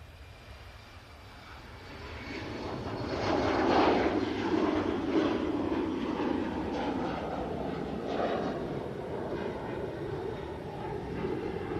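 An Austrian Airlines airliner rolls down the runway on takeoff, a broad engine roar building from a low rumble to a sustained loud whoosh that holds steady at moderate distance, with faint voices underneath.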